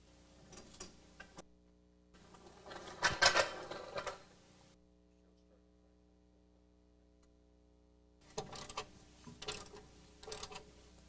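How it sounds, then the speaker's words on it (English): A coil spring compressor is worked loose from a car's front-end coil spring, giving short bursts of close metallic ratcheting and clicking separated by quiet pauses. "the coil spring compressor can safely be removed from the spring"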